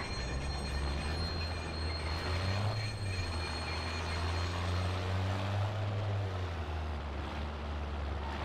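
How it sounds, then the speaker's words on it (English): Southbound train pulling into a station in the Watch Dogs video game, a steady loud rumble of wheels and carriage noise with a long low drone and faint high squeals, running continuously without speech. "Southbound train arriving shortly."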